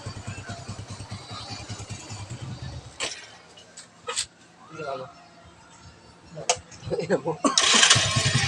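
A motorcycle engine after an overhaul with a new block and piston is cranked and starts, with several sputtering attempts before it catches and runs, close by, while people talk throughout.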